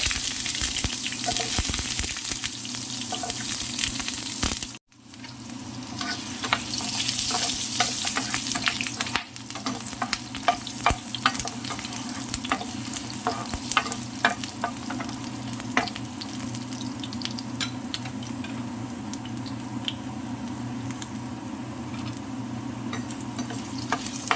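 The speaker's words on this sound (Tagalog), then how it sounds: "Pinagprituhan natin guys, nilagyan ko lang siya ng konting butter." Carrots sizzle in butter in a pan, a continuous close frying hiss broken by a short drop near the start and crisp stirring clicks and pops throughout, with no speech.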